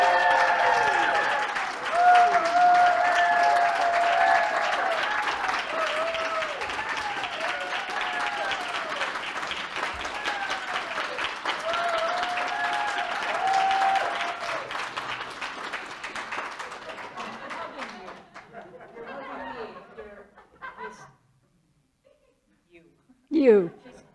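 Warm applause fills a Unity Santa Fe church service as a speaker is welcomed to the stage, steady clapping with some laughter and voices for about fifteen seconds before thinning out to scattered claps and near quiet.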